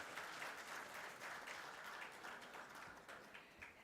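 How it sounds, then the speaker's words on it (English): Sustained audience applause at a formal ceremony marking a foundation day celebration, a steady dense clapping that carries evenly from start to finish with no talk over it. "Please, a big round of applause so that we can start the formal proceedings."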